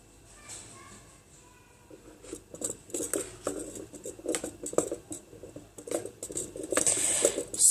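A spoon scrapes and clinks against a pot while stirring homemade chocolate as it melts, in irregular light taps and scrapes, with a brief high squeak near the end.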